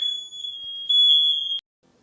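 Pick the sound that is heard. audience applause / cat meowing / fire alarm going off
fire alarm going off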